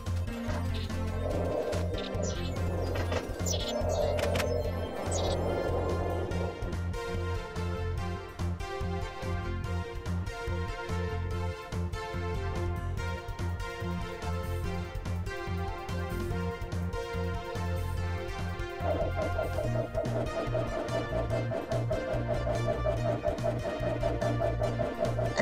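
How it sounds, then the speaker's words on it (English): Machines in the Tekkit Minecraft mod sputter as they run short of power, a dense layered game soundscape of sustained electrical hums and tones with shifting clatter, steady and loud throughout with no talking. "that is the sound of all of the machines just going pissy because I haven't given them enough power"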